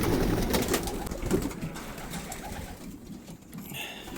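Pigeons coo softly and repeatedly amid rustling and fluttering, close by in a busy, noisy space.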